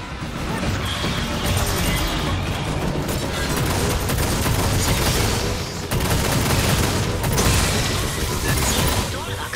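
Dense, sustained automatic gunfire and crashing impacts from the Aliens: Fireteam Elite video game, loud and continuous throughout with barely a pause, mixed with mechanical clatter and game voices.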